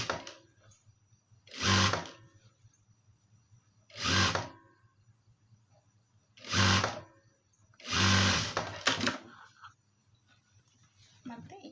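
Sewing machine runs in four short bursts of a couple of seconds each while stitching a garment's shoulder seam at the sleeve notch, with quiet pauses between runs and faint background noise.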